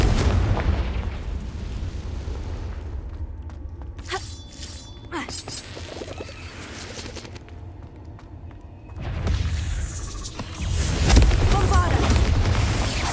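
Fiery Confringo spell blasts in Hogwarts Legacy on PS5, bursts crackling over a steady ambient game bed, with a louder flurry of impacts toward the end.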